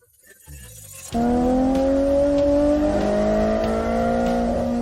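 An AZ85 race car engine fires up after a quiet opening and holds a loud, sustained rev close by, its pitch climbing slightly and wavering as the throttle is worked.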